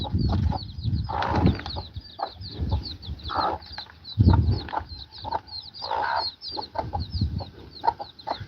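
Baby chicks a few days old peep in a high, rapid, continuous chorus beside mother hens on a farm, close by, with occasional deeper clucks and bursts of movement throughout.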